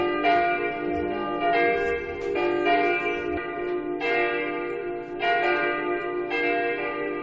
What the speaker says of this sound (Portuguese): não é um sino convencional que produz as batidas, mas um sistema eletrônico que reproduz em volume mais alto esta gravação